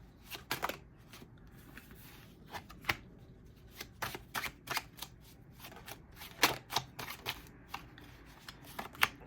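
Tarot cards shuffled by hand, a quick irregular run of crisp riffles and soft slaps, close and fairly quiet, with no voices.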